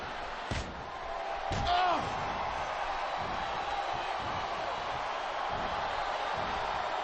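A capacity WWE crowd at a Sting versus Goldberg wrestling match keeps up a steady, distant roar, broken early on by a couple of sharp slams.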